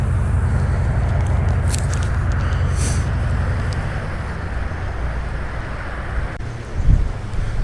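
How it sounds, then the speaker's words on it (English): Strong wind buffets the microphone outdoors beside a pond on a cold morning, a steady low roar with a brief louder gust near the end, no talking. "Wind is terrible."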